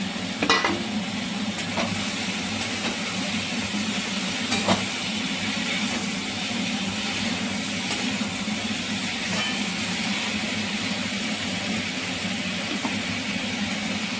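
Potatoes and drumstick stems go into softened frying tomatoes for a Bengali datha and aloo torkari, bringing a steady, even sizzle with a few light knocks of stirring near the start.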